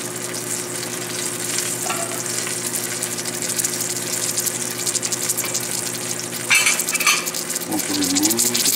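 Bronzini fish fillets sizzle steadily in hot light olive oil in a pan, a close, continuous frying hiss with a few utensil clinks and scrapes near the end.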